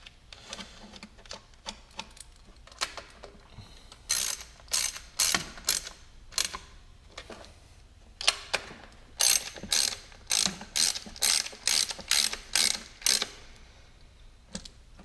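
Ratchet clicking as 10mm valve cover bolts are tightened on a Scion tC engine, coming in short bursts of rapid ticks with pauses between, louder and denser in the second half.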